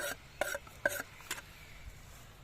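A spoon stirs cooked potatoes mixed with green onion, parsley and dill, making a few quiet scraping and rubbing strokes close by.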